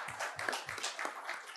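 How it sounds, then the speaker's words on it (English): A conference audience at a geopolitics panel claps for the hosts, soft scattered applause that sounds faint and somewhat distant. "we should all applaud them because they are."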